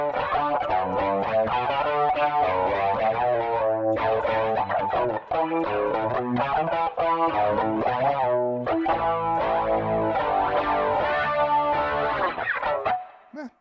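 Distorted electric guitar chords played continuously, washed in a bright, smooth studio plate reverb tail that fills the space between strums.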